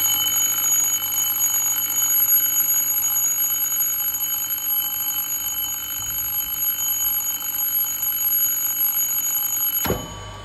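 An electric bell in a relay control circuit on a school training panel rings continuously and loudly at close range for about ten seconds, then cuts off abruptly; no one speaks.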